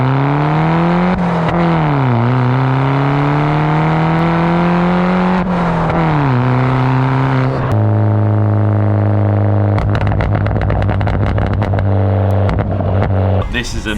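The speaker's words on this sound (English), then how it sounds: "This exhaust sounds so good." Close, loud revving from a BMW 1 Series F21 with a 1.6 litre turbo petrol engine and aftermarket exhaust, the pitch climbing and dropping through several blips, then a steady higher drone broken by crackles toward the end.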